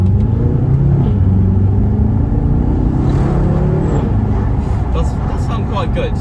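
A 2017 BMW M6 Competition Gran Coupe with a 4.4-litre V8 and DCT gearbox cruises on a motorway, its engine and exhaust giving a loud, steady low rumble with road noise throughout.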